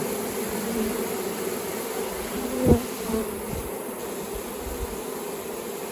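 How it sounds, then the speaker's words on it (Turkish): Honeybees buzz steadily around a small black hive as the colony settles in, a dense continuous drone with one brief louder swell of close wings. "Buradayız diye yönlendiriyor diğer arıları çağırıyor"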